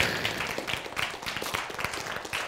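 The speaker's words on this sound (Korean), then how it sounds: "박수!" Audience applause at a lecture hall talk on the Bible and science, a steady wash of many hands clapping for the full stretch, fairly dense and even with small swells.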